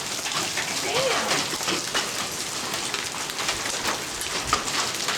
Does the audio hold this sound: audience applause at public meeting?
no